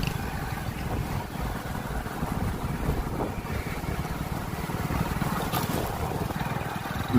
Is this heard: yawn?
no